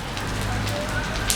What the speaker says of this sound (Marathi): पाऊस थांबला तर जाऊ, नाही थांबला तर राहिलं.